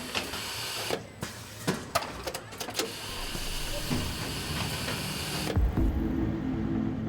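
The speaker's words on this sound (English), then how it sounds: "Air pressure shoots the strip into the shaft." A packaging machine that bundles bottles with ultra-thin 40-micrometer plastic strip shoots the strip into a shaft on a blast of air pressure, heard as a steady hiss with several sharp mechanical clacks early on and a louder whoosh near the end.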